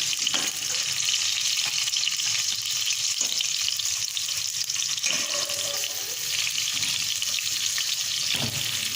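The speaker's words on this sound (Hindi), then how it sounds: "ये हमारी प्याज ब्राउन हो रही है।" Onions browning in a pan over a high flame make a steady, hissing sizzle like running water, with occasional soft stirring clinks, close and continuous, and no talking.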